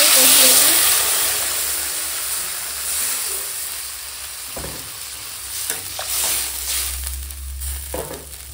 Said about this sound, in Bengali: সবজিটা অনেকটা সময় কষিয়েছি।